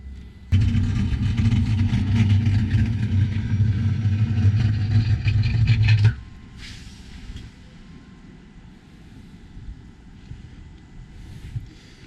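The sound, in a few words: powered engine hatch closing on Formula 31 PC cruiser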